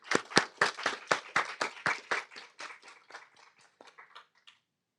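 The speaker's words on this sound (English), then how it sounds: "please give a big applause for our staff" A short burst of audience clapping for event staff at an academic conference on peace on the Korean Peninsula, loud and distinct at first, then thinning into a few scattered, fading claps.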